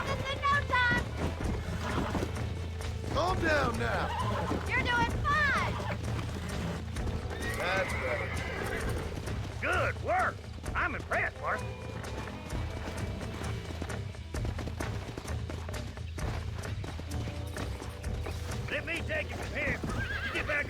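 Horses whinny loudly several times over steady clip-clopping hooves in Red Dead Redemption, with a voice and background music mixed throughout.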